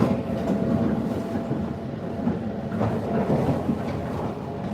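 A Shinkansen bullet train runs through the Akita countryside, a steady rushing rumble of wheels and air heard from inside with faint rhythmic rail clicks.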